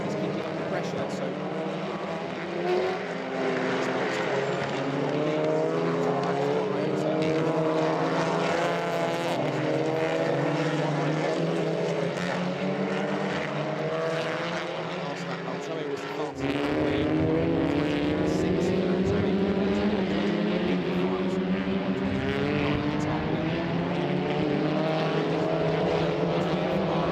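TCR touring race cars racing in a 2017 TCR Europe Trophy race at Adria, five different makes in the field, give a continuous loud engine drone throughout, with a commentator talking over it.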